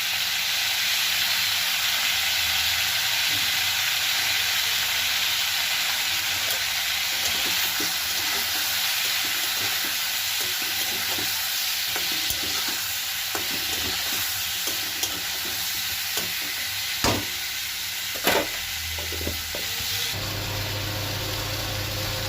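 Eggplant fries in a pan with salt and turmeric, giving a steady, close sizzle and hiss throughout, with a few clinks of stirring near the end and no talking.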